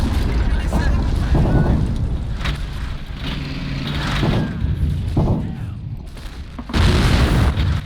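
A tank cannon fires at an enemy gun in Men of War, heavy booming blasts and rumbling explosions at irregular intervals under a steady engine grind, loud and close, with someone talking over parts of it.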